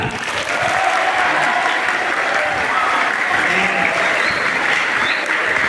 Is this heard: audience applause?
yes